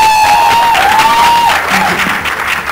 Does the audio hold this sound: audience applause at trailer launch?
yes